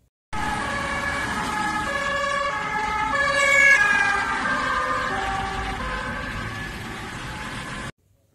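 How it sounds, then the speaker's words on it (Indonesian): A toy ambulance siren wails alone and steadily, its electronic two-tone pattern sweeping up and down for several seconds with no voices over it. "di sini ternyata ada mobil ambulan"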